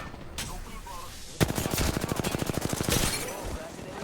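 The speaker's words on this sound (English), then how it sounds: "Getting shot from every angle." Rapid automatic gunfire from Apex Legends, a sharp burst of evenly spaced shots lasting about a second and a half after a single loud crack, set over quieter game ambience.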